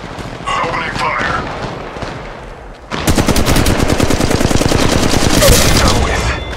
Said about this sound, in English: Taking fire. Opening fire.